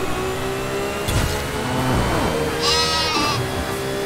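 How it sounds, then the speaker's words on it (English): A car horn that bleats like a sheep sounds twice in the racing game Forza Horizon 5, standing out over a steady engine drone. "My horn is a sheep."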